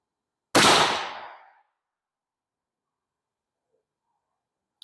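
A single sharp gunshot from a Thompson Center Encore rifle chambered in 360 Buckhammer, a loud close blast that decays over about a second into quiet, fired on a chronograph range.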